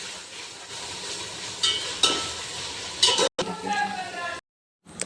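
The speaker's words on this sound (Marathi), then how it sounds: "आता हे पण व्यवस्थित आपल्याला शिजवून घ्यायचं आहे वाटण देखील" Ground masala paste cooking in a pan for a village-style chicken biryani, a close sizzle with intermittent scraping stirs and a light clink, cutting out briefly twice.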